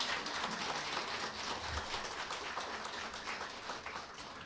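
Congratulatory applause at a district office award ceremony, steady and fairly faint, a room of people clapping continuously for several seconds without pause.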